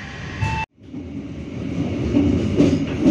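A KA Pasundan passenger train in Indonesia rumbles into Ciamis station, heard from inside a carriage as a steady rolling clatter that swells gradually, following a brief tone and a sudden drop to silence.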